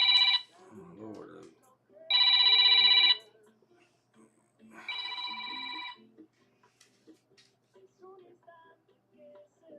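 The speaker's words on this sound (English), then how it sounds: "My phone keeps blowing up." A mobile phone rings three times in short bursts at a fly-tying bench, each ring a bright electronic tone lasting about a second with gaps between. A voice murmurs briefly in between.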